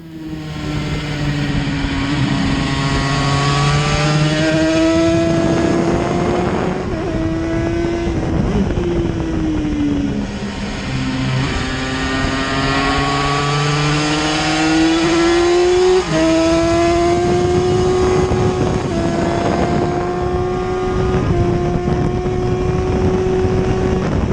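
Yamaha TZ350 two-stroke racing motorcycle lapping Donington, its loud, raspy engine revving hard and continuously, pitch rising and falling through gear changes over a steady roar, with no talking.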